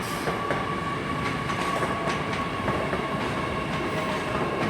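A Class 800 train rolls into London Paddington with a steady loud rumble, a sustained tonal whine and faint wheel clicks running throughout, heard alone without voices.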